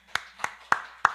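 Four sharp, evenly spaced claps ring out in a church prayer meeting, each a crisp isolated smack with a short pause between, moderately close and with no talking over them.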